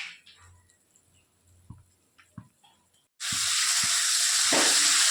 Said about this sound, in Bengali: তো আলু পেঁয়াজ মশলা এসব কষিয়ে নিচ্ছি প্রথমে।